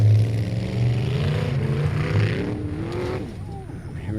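A Formula Offroad car driven by Gulli Gold climbs an offroad hill, its engine revving hard in rising and falling sweeps over a steady crowd-and-commentary backdrop, with a voice talking underneath throughout.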